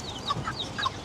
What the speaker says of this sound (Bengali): ওই দেখেন আমাদের মুরগি কই